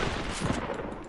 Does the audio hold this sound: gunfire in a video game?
yes